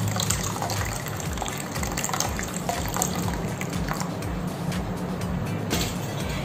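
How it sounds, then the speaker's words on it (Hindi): Water is poured steadily into a container to soak coriander seeds for growing in a pot, a continuous gushing fill that holds at a moderate level for several seconds with no talking. "अभी देखिए हम इसमें पानी ऐड कर देते हैं।"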